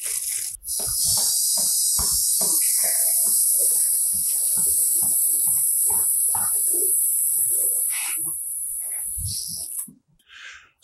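Water poured gently over Flying Dragon hardy orange seeds in seed cells, a steady hissing spray running for most of the stretch before tapering off, with someone talking quietly underneath.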